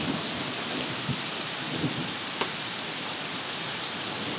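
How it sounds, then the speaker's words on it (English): Steady rain pours down in a thunderstorm, a constant hiss of drops on surfaces with a few soft knocks and a faint distant rumble of thunder, no voices. "Ah, the rain."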